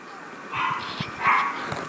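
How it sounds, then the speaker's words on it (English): A dog barks twice, a pair of muffled, fairly loud barks about three-quarters of a second apart, heard indoors with a voice talking softly underneath. "But sorry if you heard the barks."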